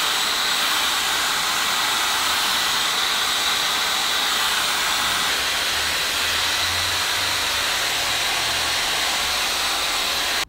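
A hair dryer blows at the roots of curly hair, a loud, steady hissing whoosh of air close by, unbroken from start to finish with no talk.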